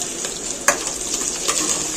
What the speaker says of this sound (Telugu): ఇప్పుడైతే మనము మెంతాకు పప్పులోకి మనం తాలింపు అయితే పెట్టేసుకుంటున్నాము.